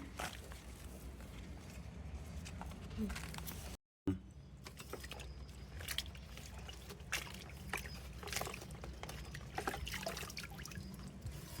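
Water running steadily as freshly harvested rooftop-garden turmeric and taro roots are washed, a continuous close trickle and splash with a brief gap partway through.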